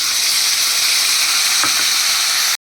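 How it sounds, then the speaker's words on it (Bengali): Green chilli, ginger, cumin and coriander paste fry loudly in hot oil in a pan for katla fish curry, a steady close sizzle with a brief stir partway through, and no voices. "এবার দেখো এগুলো আমার ভাজা হয়ে যাচ্ছে"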